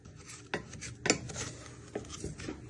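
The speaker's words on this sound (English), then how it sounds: "what you want to do is you want to stir this" Brown sugar and butter are stirred in a pan on the hob, giving soft scraping and rubbing strokes with a couple of sharper utensil knocks against the metal, quiet and close.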